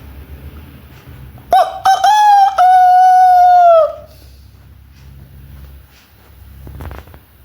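At a stage mimicry show, a person imitates a rooster's crow, one loud drawn-out cock-a-doodle-doo lasting a couple of seconds, followed by quiet room noise.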